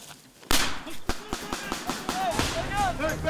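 Sharp gunshots crack repeatedly and irregularly during a combined three-nation marine combat exercise in a forest, the bursts loud and close, with voices calling out between them.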